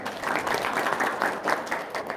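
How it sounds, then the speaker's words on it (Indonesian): Short burst of audience applause during a religious business talk, many hands clapping steadily and fairly close, with no voices over it. "Tepuk tangan dulu dong."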